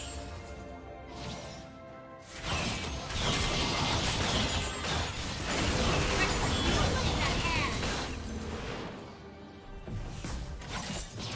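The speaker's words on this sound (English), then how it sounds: "Blue team's turret has been destroyed." Turret destruction in a League of Legends match, a dense burst of crashing, smashing game effects and mechanical clatter that swells after a brief lull and stays loud for several seconds before easing off.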